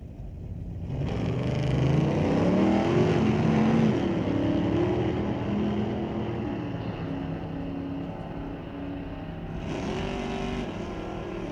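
Street-legal drag racing cars at Mission Raceway roar down the strip, a loud sustained engine howl climbing in pitch as they accelerate away and fade slightly into the distance, with no voices over it.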